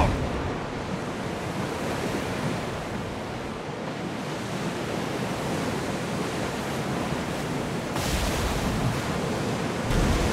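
Steady rushing of waves and wind as a ship sails the open sea in Assassin's Creed Odyssey, a dense continuous roar of surf and gusts that swells slightly near the end, with no voices.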